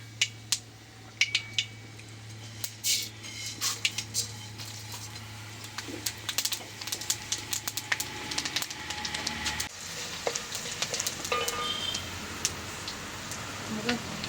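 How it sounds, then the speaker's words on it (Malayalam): Urad dal, black pepper and cumin added to popping mustard seeds in hot oil, crackling and spitting in quick irregular pops with sharp clicks of a utensil, close and fairly loud throughout. "കടുക് പൊട്ടി കഴിയുമ്പോഴത്തേക്ക് അതിനകത്തോട്ട് ഉഴുന്ന് കുരുമുളക് ജീരകം"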